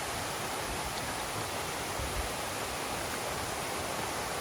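Water flowing in Cripple Creek along the Appalachian Trail: a steady, even rush of broadband noise that holds at the same level throughout, close and continuous, with no voices.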